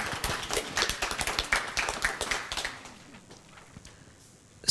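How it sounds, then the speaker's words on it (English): An audience at an interfaith conference claps after a group presentation, a few seconds of fairly light, scattered applause that thins out and fades to quiet. "Round of applause."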